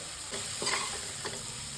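Turmeric tempering fries in hot oil with potatoes and green beans, a steady close hiss with a few soft scraping stirs of a spoon, no voices.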